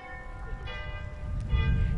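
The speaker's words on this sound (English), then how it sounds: "Church bells, like a tiny hand on the back of your neck." Church bells ring in Twillingate, their sustained overlapping tones hanging steadily over a low rumble of wind throughout.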